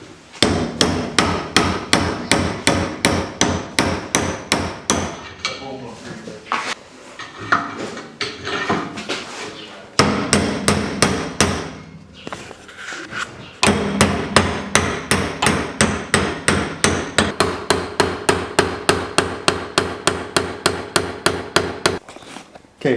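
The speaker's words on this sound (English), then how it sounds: "lightly tap up and down in hopes of breaking the rust free that's actually inside of the threads here" A hammer lightly taps rust-seized coilover threads clamped in a vise. Close, steady metallic knocks come in fast, even runs, broken by short pauses.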